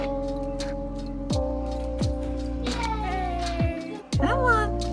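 Cats meow in several drawn-out calls, close and clear, over a steady background hum, with a person talking to them.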